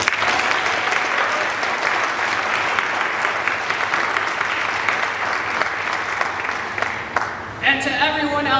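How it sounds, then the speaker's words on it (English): Round of applause from an audience at a student address, loud, sustained and evenly dense clapping for about seven seconds, fading as a speaker's voice returns near the end. "So please join me in giving them a huge round of applause."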